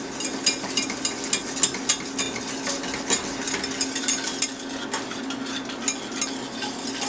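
Honey sauce for lemon pepper chicken wings whisked in a pan, giving rapid rhythmic metallic taps and scrapes over a low bubbling background, close and fairly loud with no talk.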